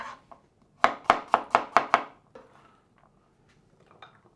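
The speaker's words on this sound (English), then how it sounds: "And our garlic just roughly chopped like so." A knife roughly chops garlic on a cutting board with six quick, evenly spaced, crisp strikes, followed by a few softer scattered taps.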